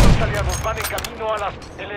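Rapid rifle gunfire in a modern shooter video game, a loud close burst of fire layered with game voice callouts shouting over the shooting.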